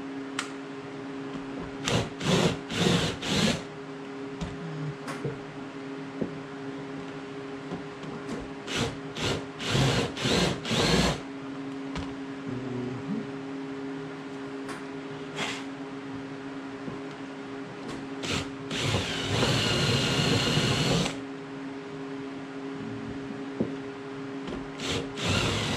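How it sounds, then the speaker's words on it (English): Countersinking bored lead screw mounts for a V12 Jaguar engine leveler, heard as several short bursts of cutting and grinding over a steady machine hum, with one longer, louder burst near the end. "We'll go ahead and get those countersunk."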